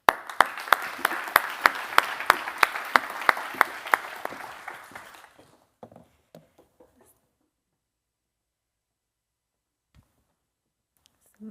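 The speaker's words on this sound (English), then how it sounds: "So a big round of applause for Chanuki." An audience breaks into applause for a speaker at a talk, with a few loud distinct claps standing out in a steady burst that fades away after about five seconds into near silence and stray small noises.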